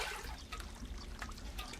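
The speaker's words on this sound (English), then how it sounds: "A continuous stream of spring water is piped right into a basin" Spring water piped continuously into a home's built-in pool basin where ornamental carp swim, a soft steady trickle and splash heard faintly and close, alone without voices.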